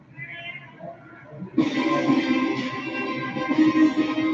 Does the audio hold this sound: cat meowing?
yes